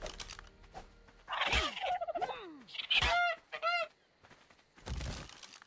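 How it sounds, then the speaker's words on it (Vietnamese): A duck in ARK: Survival Evolved gives several loud, close, rising honking calls in short bursts separated by pauses, with a heavier thump near the end. "À, con vịt nè, con vịt"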